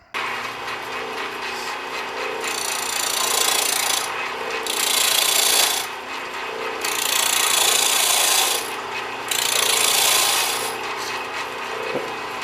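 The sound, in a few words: turning a walnut block on a wood lathe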